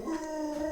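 A dog howls in a short, sustained, tonal wail that holds a steady pitch with clear harmonics, close and fairly loud.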